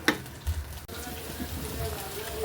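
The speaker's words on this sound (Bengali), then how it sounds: "এখন আমি উস্তেটা দিয়ে দিচ্ছি, দিয়ে নাড়া দিয়ে দিলাম।" Bitter gourd fries in a pan with hot oil, a steady sizzle with soft scraping and clatter as it is stirred. A voice speaks briefly over the cooking.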